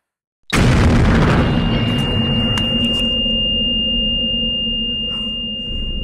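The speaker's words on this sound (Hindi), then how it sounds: "बुज़दिलों ने धमाके से उड़ा दिया घर को" A house is blown up by an explosion: a sudden loud boom bursts in, then a long roaring rumble sustains and slowly fades, with a steady high ringing tone running through it. No one speaks.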